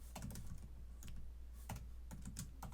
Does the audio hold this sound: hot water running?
no